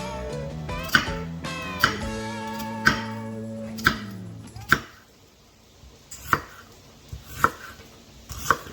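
Knife finely chopping an onion on a cutting board: a steady series of crisp, evenly spaced strikes, close and clear, with a tonal ringing kitchen sound underneath during the first half.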